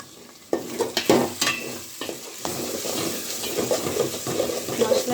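Spices and three bay leaves for biryani drop into hot oil in a pan, with sharp clattering stirs early on and then a steady sizzle, close and moderately loud.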